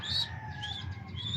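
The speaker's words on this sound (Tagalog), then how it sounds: "Nag-iiyakan na yung mga young bird." Young birds crying on a rooftop, a thin high-pitched calling that repeats, faint and fairly close, with no talk.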